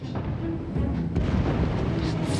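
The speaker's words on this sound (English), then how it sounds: "we'll try to chuck some rocks in the far back where they're all getting mashed together" Catapult rocks from a Karak Azul dwarf army in a Total War battle crash down on a packed enemy crowd, giving a dense, continuous rumbling roar of booming impacts and battle noise that swells slightly partway through.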